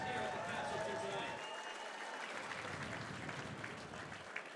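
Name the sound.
crowd applause after a fight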